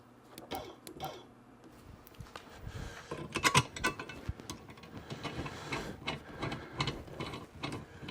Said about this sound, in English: Looks like the piston is hitting the hinge.